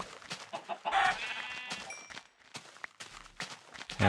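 Minecraft chickens cluck in short bursts among soft footsteps, with a brief higher squawk and quiet pauses in between.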